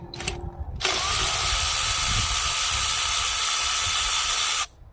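A brief mechanical whir is followed by a Milwaukee power tool running steadily at high speed for several seconds, loud and close, before cutting off abruptly.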